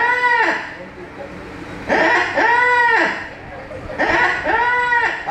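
At a bird show in Malaysia, a trained bird imitates a rooster crowing. It gives three loud, drawn-out crowing calls at a steady spacing, with quieter crowd noise between them.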